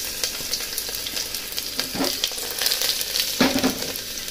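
Chopped garlic and spicy chillies fry in a pan with a steady, loud sizzle, punctuated by a couple of brief crackling bursts as the spoon stirs, close up and without talk.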